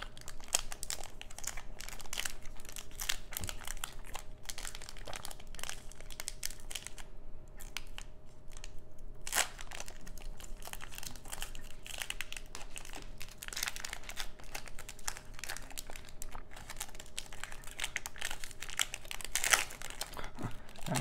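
Crinkling and tearing of a football trading card pack's plastic wrapper, a long stretch of close, steady rustling and crackling with occasional sharper rips.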